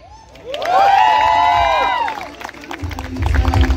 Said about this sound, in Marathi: टाळ्या जमल्या नाही पाहिजे, जोरदार टाळ्या होऊन जाऊ दे मंदार शेट्टी यांच्यासाठी.